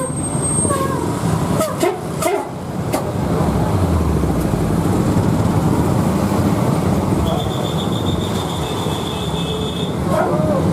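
A Budiman bus passes along the road at Limbangan market in Garut amid busy traffic, its loud rumbling engine swelling and holding steady, with brief clatters, a high whine and voices nearby.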